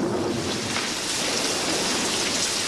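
Steady, dense rainfall from a downpour in a drama scene, a continuous broadband hiss of drops hitting surfaces, fairly close and even throughout, with no voices.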